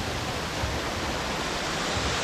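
Bakthang Waterfall near Gangtok, Sikkim, India, pours down with a continuous broadband roar and hiss, loud and close, with no voices.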